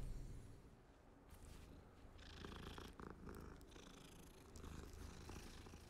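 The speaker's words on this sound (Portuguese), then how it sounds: "Um gato." Cat purring inside Hogwarts Legacy, a steady low rumble running through the clip with faint game ambience and scattered soft clicks over it, no talk.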